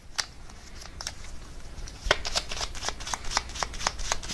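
Tarot cards are shuffled and drawn close up, making quick papery riffles and flicks that come in a steady, uneven rhythm, soft and alone with no voice over them.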